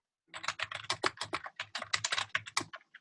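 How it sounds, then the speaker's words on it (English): Rapid, uneven typing on a computer keyboard, a steady run of close, crisp key clicks and taps lasting a few seconds, fairly quiet, with no voices over it. "Someone's typing away."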